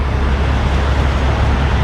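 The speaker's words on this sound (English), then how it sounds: "Let's walk out here and see how this traffic is doing as it sped up." Dense highway traffic on I-95 beside a rest area, a loud, steady roar of passing vehicles with no breaks.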